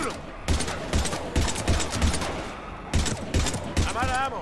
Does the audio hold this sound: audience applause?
no